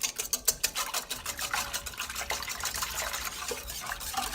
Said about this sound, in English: I like to whisk the egg in.